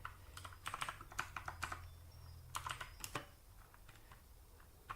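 Someone types commands on a computer keyboard while installing Arch Linux. Quick bursts of close, clicking keystrokes come with short pauses between them.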